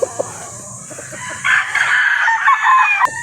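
A Boston Black stag rooster with a straight comb crows once, close and loud, its call held for over a second after a few soft clucks and rustles, with no talk over it.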